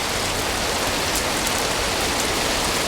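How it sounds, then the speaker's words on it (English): Steady, dense rainfall from Hurricane Beryl's outer bands at a sailboat anchorage hisses evenly throughout, a close, constant wash of drops with no voices. "it's the initial welcoming rain"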